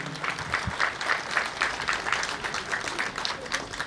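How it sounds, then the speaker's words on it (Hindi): Moderate applause from an Independence Day celebration crowd at a university award ceremony, an even patter of clapping continuing for several seconds, somewhat distant, with a faint voice over it. "आपकी तालियां"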